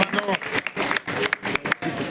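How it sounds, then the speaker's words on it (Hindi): A crowd claps for the youth at a gathering, producing a quick run of loud, uneven hand claps with sharp individual strikes that fade and return over a couple of seconds. "एक बार युवाओं के लिए एक बार जोरदार तालियां बजाओ भाई"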